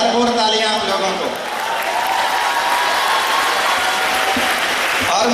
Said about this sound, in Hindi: ताली कम थी, बजानी चाहिए